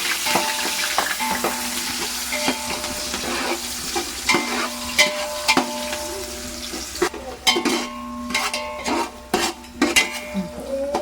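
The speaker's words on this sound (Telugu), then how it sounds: "బాగా వేగనివ్వాలి ఆనియన్స్." Onions fry for chicken pulao in a hot pan, a continuous sizzle under repeated scraping and clinking of a metal spoon stirring against the pan, busier toward the end.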